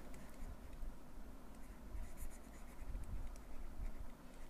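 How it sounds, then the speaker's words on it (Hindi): Pen or marker writing by hand on a board or paper during a chemistry lesson, a soft continuous scratchy scraping with small bursts, close and steady, with no voice over it. "चार एक्सेप्शनल केस है वो क्या क्या है मैं लिख लेता हूँ यहाँ पे"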